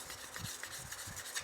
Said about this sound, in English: continuing sanding